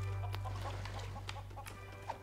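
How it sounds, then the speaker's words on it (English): A chicken in the video game LEGO Worlds clucks in short, scattered bursts over a steady low hum, moderately faint and with no talking. "There is a chicken!"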